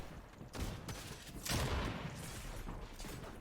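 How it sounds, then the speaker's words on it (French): Gunfire in the video game Fortnite during a solo cash cup match, a burst of muffled shots and booms heard fairly quietly over game ambience. "On lui a mis une balle dans la tête, ça l'a pas touché."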